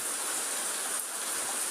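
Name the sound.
rain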